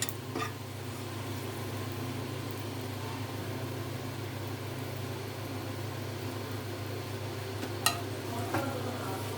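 Dried red chilies fry in oil for a prawn and bitter gourd dish, making a quiet, steady sizzle beneath a constant low hum, broken by a couple of sharp utensil clicks late on.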